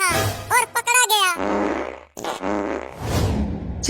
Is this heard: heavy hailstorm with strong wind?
no